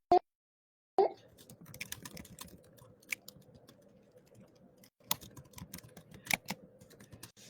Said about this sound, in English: I'm going to type this in the chat.